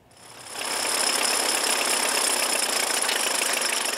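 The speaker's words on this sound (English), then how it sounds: "Organizers have been busy getting the old tractors revved up and ready for the three-day celebration" Old antique tractor engines revving up for a tractor pull at Picture Butte Jamboree Days, rising over the first half-second into a loud, steady, knocking mechanical roar with no talk.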